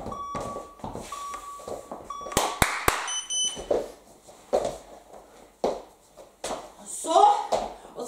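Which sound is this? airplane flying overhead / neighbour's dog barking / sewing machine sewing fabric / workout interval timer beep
workout interval timer beep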